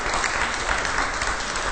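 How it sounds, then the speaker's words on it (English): An audience at a live show breaks into a dense, continuous burst of clapping that stays loud and even throughout. "Round of applause."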